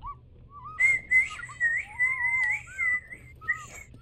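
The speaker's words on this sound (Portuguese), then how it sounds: "Aí eles conversam por meio de assobios." Game characters in Tails of Iron converse in warbling whistles, a series of clear melodic whistled phrases rising and falling over about four seconds, with a low steady rumble of background music beneath.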